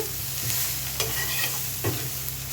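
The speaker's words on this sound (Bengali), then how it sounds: "আবার একটু ভালো করে নাড়িয়ে নেব। দেখেছো পেঁয়াজগুলো ভালো করে সুন্দর কালার হয়ে গেছে।" Onions frying in a pan while being stirred in Bengali home cooking: a steady close sizzle with a few soft scraping strokes of the spoon, and no voices.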